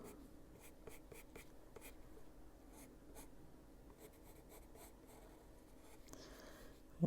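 A Luminance colored pencil scratches and strokes across paper while drawing hair, soft close-up scribbling in short repeated strokes, with a louder bump at the very end.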